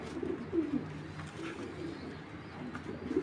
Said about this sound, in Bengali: দেখেন কক্সবাজার থেকে আসা কবুতর, ওর যে ফিটনেস ভাই মাশাআল্লাহ, কবুতরটা প্রচুর ছটফট করে।